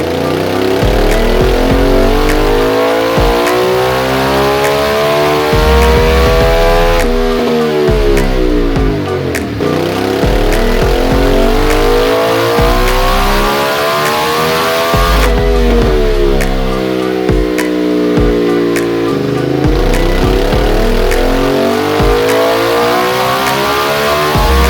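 A 2012 Ducati Multistrada motorcycle engine revs hard on a dyno, loud and continuous with repeated rising and falling sweeps through the gears, no talk.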